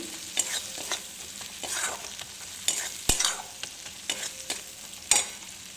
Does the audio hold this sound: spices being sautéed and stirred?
yes